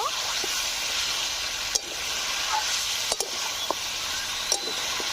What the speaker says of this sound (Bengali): কত সুন্দর করে কষে নিচ্ছি মাংস